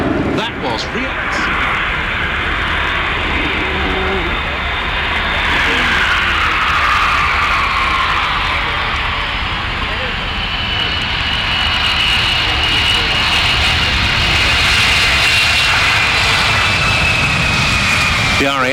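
NATO E-3A aircraft in a flypast at RIAT 2024, a loud sustained jet engine roar that swells and shifts in pitch as it passes, with commentary over the airshow sound.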